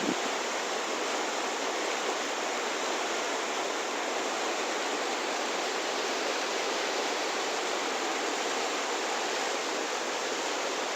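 A river flows beneath ice along the Chadar trek, a constant, dense rushing hiss of moving water that holds steady and loud throughout, with no other sounds rising above it.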